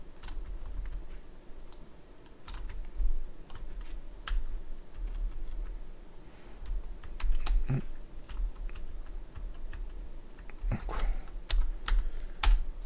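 Computer keyboard typed on steadily, quick irregular clicks with brief pauses and bursts, close and fairly quiet, with no talking.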